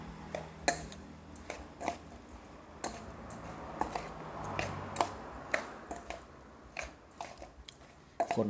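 Close, crunchy chewing of a crunchy apple snail salad with irregular crisp bites and wet squishes, quiet background, no talking.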